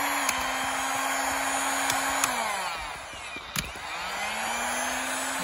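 An electric heat weed killer blows hot air with a steady loud whirring roar whose motor pitch dips and recovers a couple of times, like a hair dryer running continuously.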